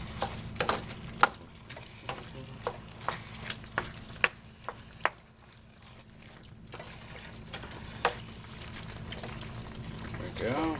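Spaghetti sauce being stirred slowly in a pan on the stove, a soft sizzle running throughout with a series of light clicks and taps from the spoon against the pan, and a voice talking faintly at times.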